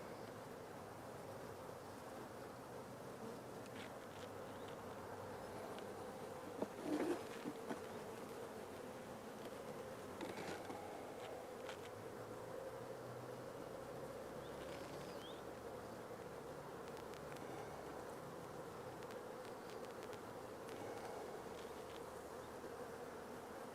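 Honey bees buzz steadily around an open beehive during a beekeeping inspection, a continuous near drone of many insects with a few louder passes close by.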